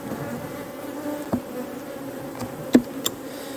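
A honeybee colony buzzes steadily during a queen introduction. The colony is small. The drone is continuous and mid-low, with a few brief louder sweeps as bees fly close past, and no one speaks.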